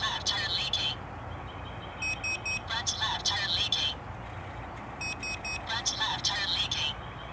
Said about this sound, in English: So as you can hear, it's saying front left tire leaking, and it says zero on there.